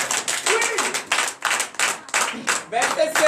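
Rhythmic group clapping in a steady beat with voices calling out over it at a morning prayer service, lively and close.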